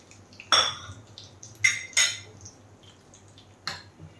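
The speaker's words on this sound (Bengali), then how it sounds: "হলুদটা একটু মিশিয়ে নিচ্ছি" A spoon mixes turmeric into thoor dal in a metal pot, giving four sharp, separate clinks against the rim over a quiet, low background hum.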